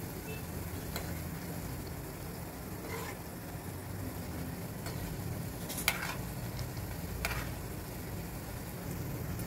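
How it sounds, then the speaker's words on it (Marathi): Sambharwadi frying gently in moderately hot oil in a pan over a low flame, a steady soft sizzle with faint crackles and a few brief sharp clicks, no voices. "आता याला गोल्डन कलर येईपर्यंत हे अशा तळून घ्यायच्या"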